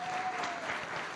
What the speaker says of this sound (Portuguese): eu peço uma salva de palmas ao nosso companheiro Benedito Roberto Barbosa